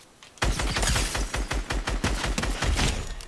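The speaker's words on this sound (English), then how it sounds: "He has a drum gun." Drum gun firing in the game Fortnite: a loud, rapid burst of gunshots that begins abruptly and keeps up a fast, slightly uneven rhythm to the end, heard up close.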